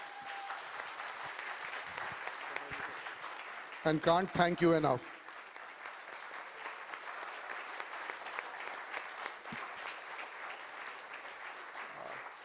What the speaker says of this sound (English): A big round of applause for Vishy.